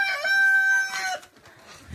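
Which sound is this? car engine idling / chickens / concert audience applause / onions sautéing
chickens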